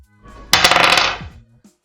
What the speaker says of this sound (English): Firstly, the dice are rolled.